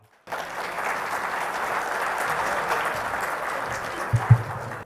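Listeners at an Urdu poetry mushaira break into applause, a steady, full round of clapping from a gathered crowd that holds evenly, with a couple of low thumps near the end before it cuts off.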